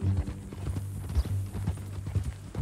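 Horse hooves clip-clop steadily in Red Dead Redemption 2, an uneven trotting rhythm of soft thuds close by, with a low steady hum underneath and no speech.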